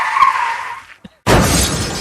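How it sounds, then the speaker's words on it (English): A toy sound effect of a car swerving and crashing: a sustained tire-squeal whine fades out, a brief gap, then a loud crunching, shattering crash noise that keeps rumbling to the end. "I'm like reaching all over trying to find my swerve sound effect."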